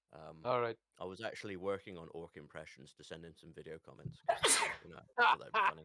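A single sharp sneeze bursts out near the end between stretches of close conversational speech, louder and noisier than the voices around it.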